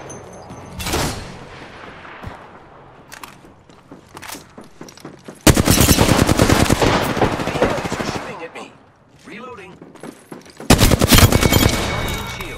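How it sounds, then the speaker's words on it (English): Automatic weapon fire in the video game Apex Legends, rapid dense bursts that cut in loudly around the middle and again near the end, with quieter single shots, footsteps and faint game voices between. "Taking fire. Firing on subjects."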